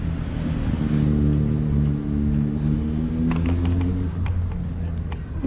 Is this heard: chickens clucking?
no